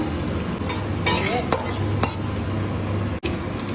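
Dried red chillies and mustard seeds tempering in hot oil for a yogurt and papaya dish, a steady close sizzle with scraping stirs and a few bright metallic clinks of a utensil against the pan.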